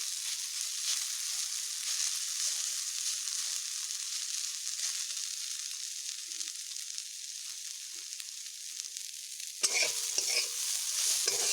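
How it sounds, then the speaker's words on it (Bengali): Water spinach (kalmi shak) fries over medium heat in a pan, a steady soft sizzle with occasional stirring, growing louder near the end. "আমি একটু হালকা হিটে, মিডিয়াম হিটে ভাজছি, তাহলে শাকটা বেশ নরম নরম হবে।"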